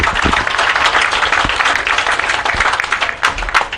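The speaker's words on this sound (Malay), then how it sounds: "Terima kasih kerana tepukan." Crowd at a political rally applauding, a loud burst of many hands clapping with some uneven, individual claps standing out, sustained throughout the brief moment.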